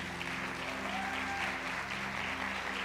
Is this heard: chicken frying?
no